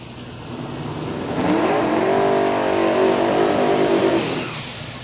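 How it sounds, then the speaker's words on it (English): A big block twin turbo Monte Carlo race car from Alabama roars up close at a racing event, its engine swelling loud and holding a steady, rising drone for several seconds before easing off. "the Monte Carlo, Shane Stack, the big block twin turbo machine coming out of Alabama"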